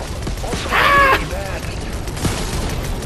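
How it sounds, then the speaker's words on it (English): Gunfire in Fortnite during a Nexus War event comes as a rapid series of shots over a loud, busy game soundscape, with a voice heard partway through. "Keep shooting at them!"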